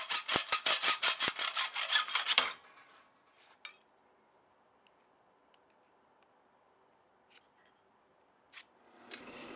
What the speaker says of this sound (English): Now I can start cutting up some spacers.